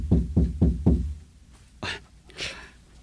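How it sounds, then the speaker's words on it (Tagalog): Four quick, firm knocks on a door sound close and loud in a steady rhythm, followed by a couple of softer thuds and shuffling in a quiet room. "May kumatok."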